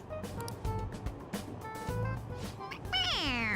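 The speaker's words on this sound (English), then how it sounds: "It meows when you press on its head." A toy cat in the Persona 5 Royal video game gives a squeaky, rising-and-falling meow near the end when pressed, following a stretch of busy game sounds and music.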